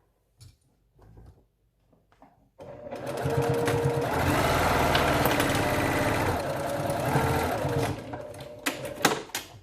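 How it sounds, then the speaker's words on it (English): Sewing machine stitching close to the edge of a face mask's fabric, a loud continuous mechanical whirr running for about five seconds after a few soft handling sounds, then stopping with light clicks. "you're going to be stitching close to the edge all along the bottom there"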